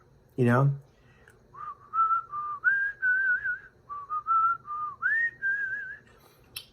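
A brief vocal sound, then a person whistles a clear melody in short phrases of sustained and gliding notes, close and alone.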